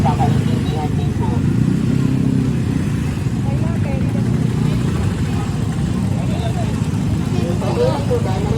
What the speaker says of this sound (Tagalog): nakikipaglaban po tayo sa ingay ng motor